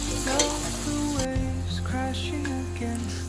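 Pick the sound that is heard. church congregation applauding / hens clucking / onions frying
onions frying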